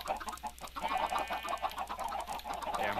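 Several chickens cluck and chatter in a block-building survival game, a dense, continuous stream of short clucks close by, with no talking.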